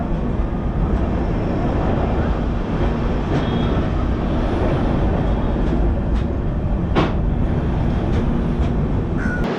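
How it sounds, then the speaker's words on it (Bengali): A Falaknuma Superfast Express with LHB coaches, near Khurda Road Junction, gives a steady, loud rumble of wheels and carriage noise throughout, with a few sharp clanks and squeaks standing out briefly from the constant roar. "আমাদের ট্রেন এখন দাঁড়িয়ে পড়ছে খুর্দা রোড জংশনের দু কিলোমিটার আগে"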